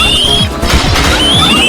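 Key launcher weapon effect from the racing game BallisticNG, a loud short crashing burst with a ringing metallic whistle, then a second impact.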